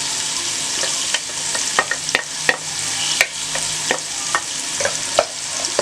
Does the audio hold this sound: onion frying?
yes